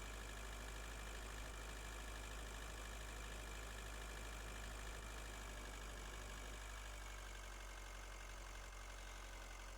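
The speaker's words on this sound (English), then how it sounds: "Put the engine on, it takes off without me." A spacecraft engine runs in the space survival game Breathedge, giving a steady, loud low hum that continues unbroken throughout with a faint shift in tone near the end.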